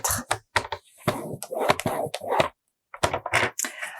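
Paper trimmer working a sheet of paper to crease a fold, a series of close, sharp clicks, scrapes and taps in quick irregular bursts with one brief pause, no talking.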